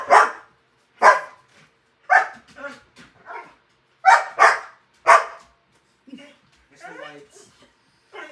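A dog indoors barks loudly several times in separate sharp bursts close by, followed by softer yips and whimpering.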